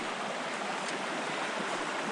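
Steady rushing of a stream at a trail water crossing with a washed-out bank, a little over a mile from a campsite on the Cedar Brook Trail; a continuous, even broadband wash close by, with no talk.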